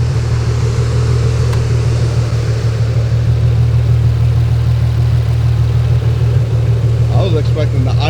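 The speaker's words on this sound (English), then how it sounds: "I was expecting the idle and everything to be way louder" A Nissan 350Z Nismo with a gallery gasket problem idles with a low, steady, even rumble that runs unbroken and close, and a faint voice comes in near the end.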